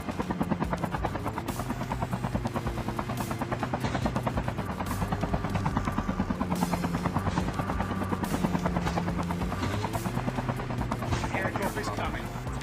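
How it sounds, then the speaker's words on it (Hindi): A helicopter landing in Call of Duty Mobile drones loudly with rapid, steady rotor chop throughout, while gunfire bursts crackle intermittently over it. "मैंने जल्दी से जल्दी जितना हो सकता था हेलीकॉप्टर को नीचे उतारा"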